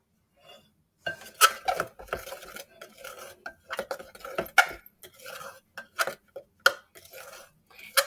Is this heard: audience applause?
no